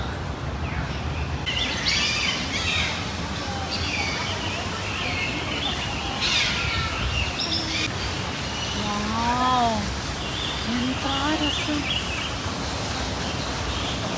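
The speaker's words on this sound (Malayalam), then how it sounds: "പക്ഷികളുടെ സൗണ്ടേ നാട്ടിലെ പോലെ കേൾക്കണു" Birds chirp and sing in a park aviary in Hong Kong, with clear calls standing out midway, under ongoing outdoor ambience and people talking nearby.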